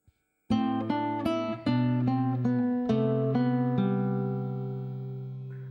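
An acoustic guitar plays the third measure of Jesu, Joy of Man's Desiring alone: a short series of plucked notes picked one at a time with steady rhythm, close and clear, the last notes ringing out and fading slowly.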